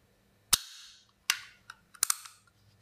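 A customized Hi-Capa airsoft pistol fires with its grip safety pressed, giving several sharp, close snaps with short metallic decays, including a quick double shot near the end.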